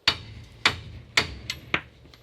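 A hammer strikes the steering arm of an abandoned Ferguson TEA20 tractor five times, sharp close metallic clanks in an uneven rhythm, each ringing briefly before fading, with no talking.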